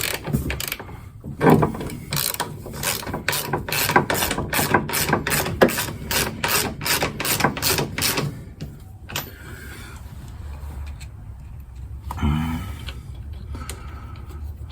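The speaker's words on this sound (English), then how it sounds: "We'll go ahead and just tighten this one in and get the rest of them all lined up." Ratchet clicking steadily as strut bolts are tightened on a 2002 Acura TL Type S front suspension, a fast run of loud close clicks for about eight seconds, then sparse quieter clicks and handling noise.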